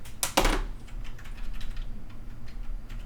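Fingers type on a computer keyboard in a quiet room, a sharp cluster of keystrokes at the start followed by light, scattered clicks.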